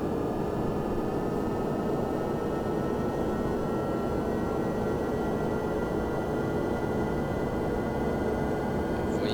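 Continuous roar of Boeing 767 jet engines at high takeoff power in a flight simulator game, with a steady whine above the rumble, unchanging throughout and with no voices.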